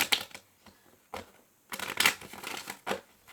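Tarot cards riffle and slap in several brisk bursts, close and crisp, with short pauses between shuffles and draws; no voice over them.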